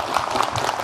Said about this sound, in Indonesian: Tepuk tangan dong dari Bogor nih.